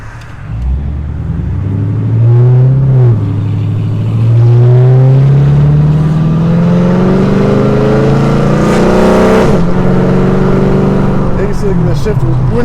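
A Pontiac G8 GT is driven on the road, heard from inside as a loud, close engine rumble rising and falling through revs and gear shifts, with a brief voice over it.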